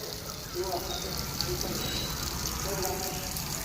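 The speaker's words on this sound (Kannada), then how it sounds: "ನೀರು ಇಷ್ಟು ಪ್ರೆಷರಿಂದ ಕೆಳಗಡೆ ಬೀಳಕತ್ತಾವ ನೋಡ್ರಿ" Water from an overflowing tank gushes down under pressure, a continuous rushing splash that runs steadily behind a person speaking over it.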